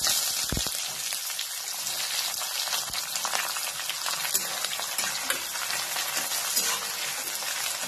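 Curry leaves and onion fry alongside roasted peanuts for pohe, a dense, even crackling sizzle close by, with occasional sharper pops and stirring clicks, and no speech.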